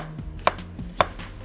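Two sharp knife chops through a banana on a cutting board, spaced about half a second apart, close and crisp over quiet kitchen background.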